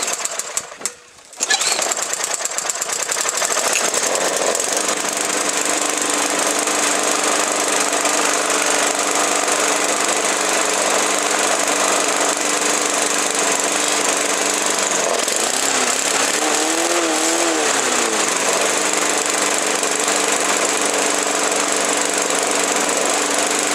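A free junk Honda clone lawn mower engine with a carburetor problem and a stuck, leaking float runs steadily and loud after a brief start, its drone holding almost unchanged with a short wavering dip partway through.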